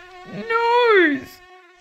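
A cartoon-style mosquito buzz, a high whining tone that rises and swells to a loud peak, then bends downward and fades over about a second, with faint voice-like sounds around it.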